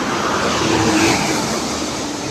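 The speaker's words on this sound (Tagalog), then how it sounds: "Meron bagong sleeper bus ang Raymond Trans." A Raymond Trans sleeper bus rolls past nearby in a brief, broad roar of engine and road noise that swells and holds.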